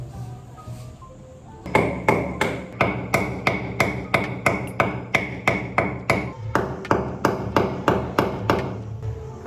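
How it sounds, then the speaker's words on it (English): Steady hammer strikes on nails, about two per second, sharp and close, continuing for several seconds with no talking. "I have some nails and my trusty hammer, and I'm going to lock this down"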